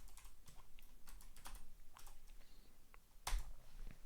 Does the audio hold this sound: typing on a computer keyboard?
yes